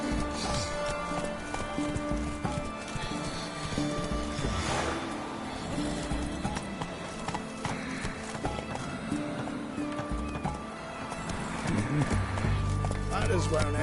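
Roach the horse gallops in The Witcher 3 with steady clip-clop hoofbeats and an occasional whinny, set under game music and a person talking throughout.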